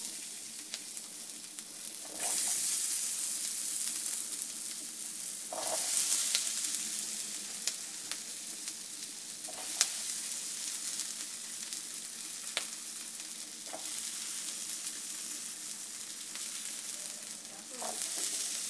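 Potatoes sizzle steadily in a light coating of oil in a hot pan. The frying noise is continuous and moderately loud throughout, with a few brief stirring scrapes and clatters.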